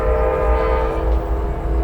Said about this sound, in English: That's a definite Amtrak whistle.